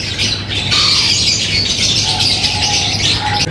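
Opaline lovebirds and other caged birds at a Sunday bird market in Bahawalpur squawk and chirp continuously, loud and close, in a dense overlapping chorus.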